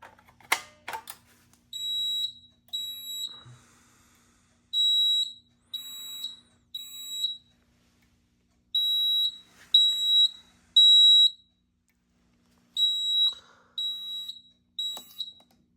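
Kidde FX-5R fire alarm panel sounding after a Simplex pull station is pulled, a loud, close electronic tone pulsing in repeated bursts of three with pauses, no talk, preceded by a brief mechanical clack.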